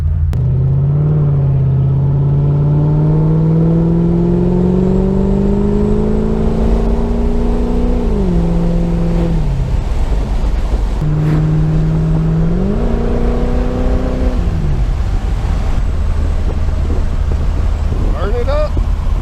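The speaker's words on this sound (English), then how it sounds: "It's really not that loud, but it is deep. And it does give the car a growl" Deep, loud exhaust growl from a 1991 C4 Corvette with stainless muffler eliminators, rising in pitch as it revs twice, then dropping back to a rumbling idle.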